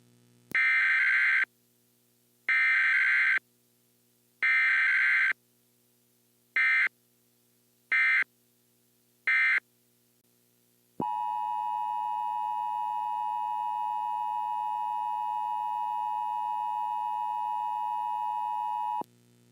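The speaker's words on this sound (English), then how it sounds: "This is an important message from the emergency alert system." Emergency alert system warning on a Michigan broadcast: a series of loud, evenly spaced electronic beeps, then a long, steady, piercing two-tone alert that runs on unbroken for several seconds.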